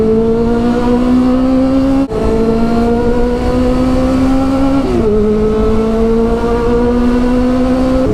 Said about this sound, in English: today is just a vlog about me making some noise with this bike